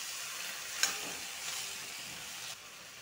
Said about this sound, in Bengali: পুঁই শাকের সাথে আলুটা একটু নাড়াচাড়া করব।